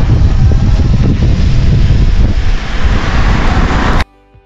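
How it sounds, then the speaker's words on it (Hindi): Strong wind batters the microphone while a drone is flown near the Pamban Bridge at Rameswaram, a loud continuous roar that cuts off abruptly near the end. "बहुत तेज जो हवा चल रही है इसमें रोन उड़ाने की कोशिश करते हुए"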